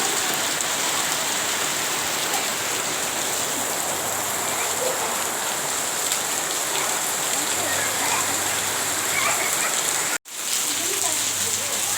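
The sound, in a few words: heavy rain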